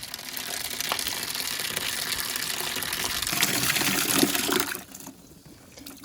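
An outdoor tap on a homestead, just freed from freezing in harsh winter weather, gushes water in a loud, steady rush for several seconds before the flow eases and quiets, with no voices.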